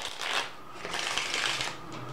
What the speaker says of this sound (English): riffle shuffles